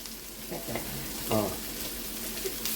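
Green chillies fry in a pan for a tin fish curry, a soft steady sizzle with a few louder spits and stirring scrapes, heard close and alone.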